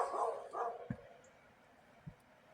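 A dog in a kennel lets out a couple of muffled barks at a distance early on, followed by a few dull knocks over otherwise quiet outdoor ambience.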